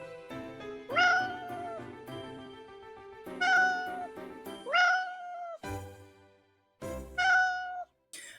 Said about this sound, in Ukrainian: А, тут нявкають коти.